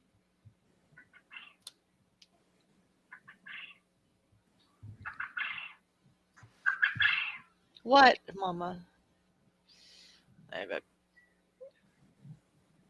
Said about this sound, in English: that's a Caturnix quail looking for her tiny button quill girlfriend